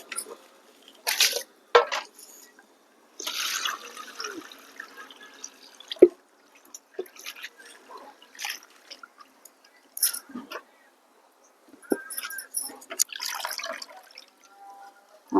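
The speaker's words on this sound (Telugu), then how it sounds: "అంతా ఇట్లా సిల్లుల గిన్నెలు పెట్టి నీళ్ళన్నీ కిందికి దిగిపోతాయి." Water dripping and trickling from washed sorrel (gongura) leaves through a perforated colander, heard as intermittent splashes and drips in short bursts with quiet gaps, close and moderately soft.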